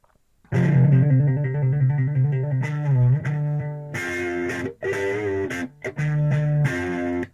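Distorted electric guitar playing sustained chords with a fuzzy, gritty edge, loud and close, with a few brief pauses between phrases.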